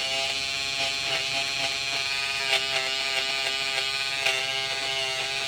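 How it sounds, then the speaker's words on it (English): An electric Peggy stitch eraser is run across the back stitches of an embroidered name on fabric, giving a steady, close electric buzz like a shaver, with faint scraping pulses as it moves. "So you get your stitch eraser"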